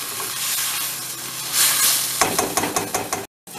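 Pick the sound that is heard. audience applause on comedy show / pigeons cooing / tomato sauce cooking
tomato sauce cooking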